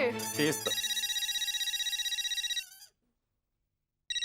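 A bright electronic ringtone trills in a steady repeating pattern for a few seconds, stops, then starts ringing again after a short silence.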